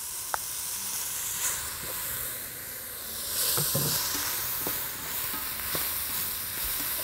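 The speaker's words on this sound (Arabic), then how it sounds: "أنا عايزة طعم الزبدة زبدة، فبنزلها متأخر شوية." Butter sizzling in a hot pan in a home kitchen, a steady close hiss and crackle with occasional stirring clicks and no talk.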